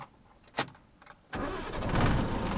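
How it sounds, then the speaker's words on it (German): A camper vehicle's engine cranks and catches on a roadtrip through Turkey after getting stuck, a few quiet clicks first, then a loud start that settles into a steady rumbling idle. "Und jetzt startest du erstmal den Motor."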